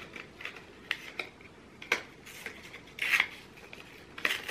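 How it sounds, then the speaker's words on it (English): Plastic cosmetics packaging being torn and tugged open by hand, a run of short crinkly rips and snaps, one longer louder tear near the middle, close and moderately quiet with no talking. "We'll just rip it."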